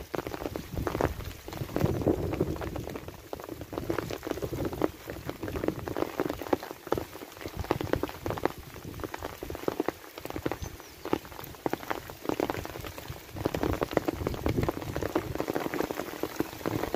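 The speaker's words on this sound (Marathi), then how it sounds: "झाडाखाली उलट जास्त पाऊस." Rain pours down under a tree, a dense, crackling patter of drops that keeps up unbroken and fairly close, with no voices.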